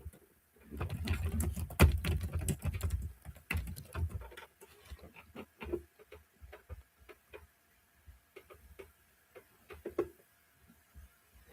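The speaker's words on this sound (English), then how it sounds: "I'm typing about the link I just posted a few minutes ago." Typing on a computer keyboard produces quiet, irregular key clicks, with a denser, louder flurry early on and then sparser taps spread out across the rest of the passage, with no speech.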